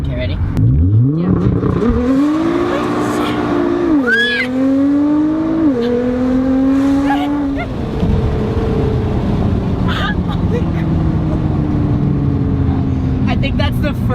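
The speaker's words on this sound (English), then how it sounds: "I think that's the first time I've ever done actual launch control on camera" A 2017 Nissan GT-R with an Armytrix Valvetronic exhaust does a launch-control start. The engine is held at high revs, then roars loudly and close through rising, stepped gear pulls before a long fading drone, with excited voices over it.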